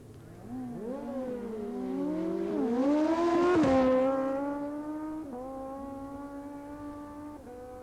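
GSXR 1100 motorcycles at a 1990 drag race at Blyton, engines screaming up through several gear shifts as they pass, swelling loud and then fading into a distant whine.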